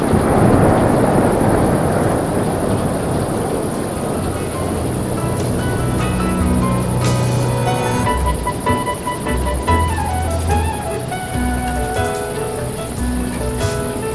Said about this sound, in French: Un grondement de tonnerre résonne, des pluies dégringolent, ranimant la végétation.